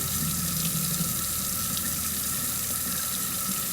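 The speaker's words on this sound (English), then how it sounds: "So I'm going to just drain this water off." Water pours from a bowl of rinsed mushrooms and splashes steadily into a sink, a continuous rushing flow at moderate volume with no talking.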